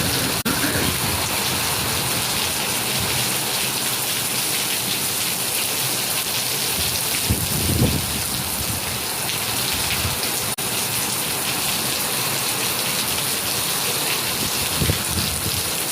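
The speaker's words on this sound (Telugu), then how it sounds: "సో వర్షం చూడండి ఎట్లా పడుతుందో, ఫుల్ పడుతుంది వర్షం అయితే." Heavy rain pours steadily outside, a dense continuous hiss of drops on surfaces with a few brief louder splashes, near and loud throughout.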